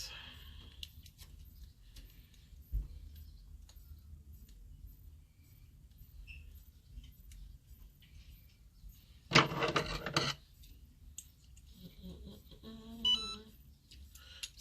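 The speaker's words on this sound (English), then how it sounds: "So my heat press just beeped." A heat press used for sublimating a silver heart necklace gives a short, sharp electronic beep burst signalling it is ready, rising out of a quiet room with faint handling noises around it.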